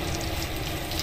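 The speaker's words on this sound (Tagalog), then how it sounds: "Magisa muna tayo ng bombay" Onions sautéing in a pan for pork cooked with yakiniku sauce, giving a steady, close, dense sizzle and crackle with no voices.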